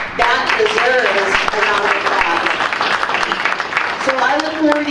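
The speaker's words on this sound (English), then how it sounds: "That deserves a round of applause." At a community forum on HIV prevention, a crowd applauds with a continuous broadband wash of clapping that lasts about five seconds, mixed with raised voices and cheering.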